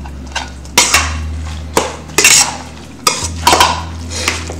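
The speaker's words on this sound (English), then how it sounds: "Give that salad a good mix," Vegan unchicken salad tossed with shredded iceberg lettuce and Roma tomato in a bowl, with several sharp clanks and scrapes of a utensil against the dish in an irregular rhythm, close and fairly loud over a low steady hum.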